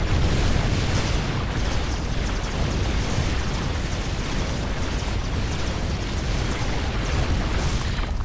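A dense, continuous roar of combat fills a real-time strategy video game battle as Immortals fight Ultralisks, with steady blasts and impacts that stay loud throughout and carry no talk.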